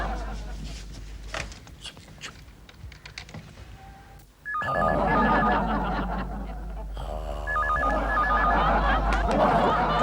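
A phone ringtone trills in repeated electronic bursts, loud and close, over busy background noise after a quieter stretch of clicking.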